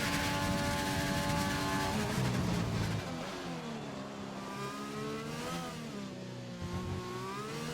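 Formula 1 car engine from F1 2020 on medium tyres at the Mexico circuit, revving loud and close in long sustained whines with pitch rises and falls through gear changes, dipping after a few seconds as the car heads into turn 1.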